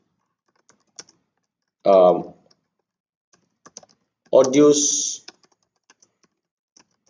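Soft, sparse keyboard clicks tap away quietly, with a person speaking briefly twice between the keystrokes.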